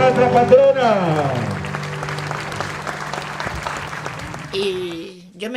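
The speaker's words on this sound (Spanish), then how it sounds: "¡Fuerte el aplauso para nuestra patrona!" Applause rises from a crowd at a community festival welcoming the town's patron saint in Loreto, steady and broad under music and a loud announcer's voice.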